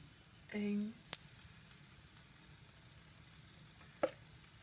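American pancakes fry in a pan with a quiet, steady sizzle, broken by a short tonal whine and a couple of sharp utensil clicks.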